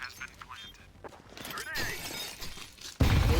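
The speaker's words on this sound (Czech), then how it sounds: "co mi rozbíjí skla?" Glass shattering in the video game Counter-Strike 2 on the Anubis map, a sudden loud crash near the end of the clip following game sounds and people talking.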